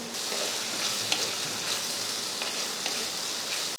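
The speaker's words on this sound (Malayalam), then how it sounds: "2 മിനിറ്റ് നേരം ഒന്ന് വഴറ്റാം മീഡിയം ഫ്ലെയിമിൽ." Chopped tomatoes sauteing over a medium flame for a fish curry, a soft even crackling sizzle with a few faint stirring scrapes throughout.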